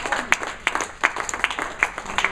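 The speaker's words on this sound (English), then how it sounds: "So give yourselves a big round of applause." An audience breaks into a round of applause at a rally supporting Mumia, a steady patter of many hands clapping at moderate distance, with sharper individual claps standing out through the whole stretch.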